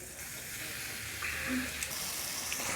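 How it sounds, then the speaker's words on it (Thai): A broad crackling hiss of mushroom-wrapped bacon frying in a hot pan fills the clip, steady and fairly loud, with faint clinks partway through. "เมื่อกระทะร้อนได้ที่แล้วเราก็ เอา เบคอนพันเห็ดที่เราทำไว้ใส่ใส่ลงไปครับ"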